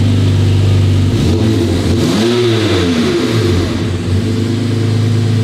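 BMW M4 G82 engine revving loudly up close, holding a steady growl before the revs sweep up and settle back down in one smooth surge, with no voices over it.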